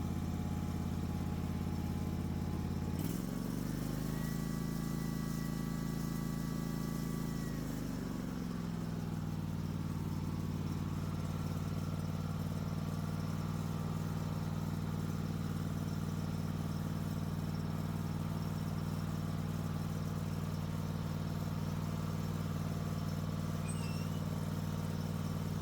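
A lawn mower engine runs steadily, dips in pitch for a few seconds as the blade PTO engages and loads it, then settles back into an even, continuous drone, close and alone.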